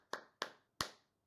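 A podcast host claps her hands three sharp times with even spacing, each clap close and crisp, then a fourth begins at the very end; no talking.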